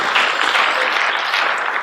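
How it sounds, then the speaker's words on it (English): Graduates at a high school and college commencement applaud together in a steady, dense round of clapping that holds close and loud throughout, with no talking over it. "I want you guys to give yourselves a round of applause."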